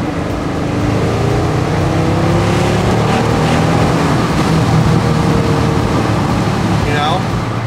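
A 2006 Mercedes SL65 AMG pulls hard under acceleration, its loud engine roaring and rising steadily in pitch against strong wind rush, close and continuous throughout.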